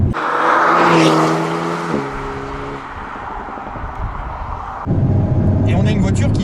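Alpine A110 S switched into sport mode while driving, engine note rising with harmonic bands under accelerating load, then settling into a busier, rougher drone with light crackles toward the end; a voice talks over much of it.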